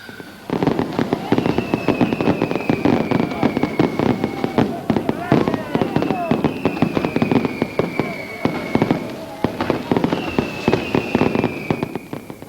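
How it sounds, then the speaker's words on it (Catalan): Fireworks burst over a town square festival night marking a devil troupe's 15th anniversary in Mataró, a dense, continuous crackle of rapid bangs and hissing whistles with rising shrieks, loud and close amid crowd noise. "els focs artificials i aquest homenatge de llum van servir per celebrar els 15 anys de les diableses de la ciutat"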